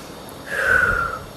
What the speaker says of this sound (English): Exhale from your mouth.